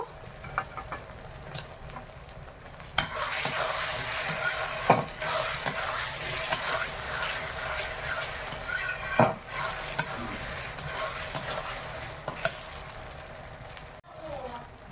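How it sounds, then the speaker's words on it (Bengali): Continuous sizzling of ginger and garlic frying in a pan, with occasional clinks and scrapes of stirring, at moderate closeness and without speech. "আদা রসুন ভালোভাবে ভাজা হয়ে গেছে।"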